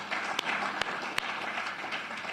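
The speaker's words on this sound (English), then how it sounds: "I think we need to give ourselves a round of applause on that one." Attendees at a heads-of-state summit opening ceremony clap in a moderate, steady wash of applause heard from some distance, with a few sharper individual claps standing out.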